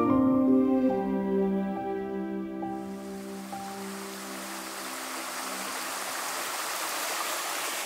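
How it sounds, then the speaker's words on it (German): A stream fed by springs in the Black Forest, its foamy water bubbling as a steady broadband rush after a short tonal sound at the start. "Hier gibt es viele Quellen im Boden, hier gibt es viele Bäche, die sprudeln etc."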